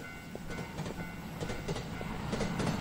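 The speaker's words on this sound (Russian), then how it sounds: "Где-то едет поезд." Train passing in the horror video game Teke Teke: Moonlit Dread, a steady distant rumble with faint rhythmic clickety-clack of wheels on rails.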